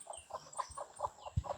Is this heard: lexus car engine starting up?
no